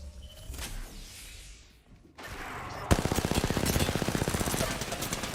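Gunfire in the Apex Legends video game erupts as a fast, steady automatic stream of loud, evenly spaced shots after a quieter stretch with a brief whooshing swipe.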